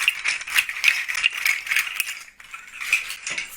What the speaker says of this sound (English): We had shell shakers.